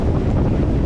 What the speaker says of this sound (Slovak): Ale vôbec to nie zima, len to tak trochu fúka.